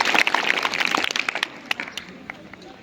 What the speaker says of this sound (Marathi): या दोघांसाठी सर्वांनी टाळ्या वाजवायच्या आहेत.